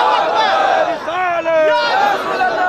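A crowd at an Eid Milad un Nabi procession chants Allahu Akbar in loud, sustained unison in response to a Takbir slogan, the voices swelling and overlapping.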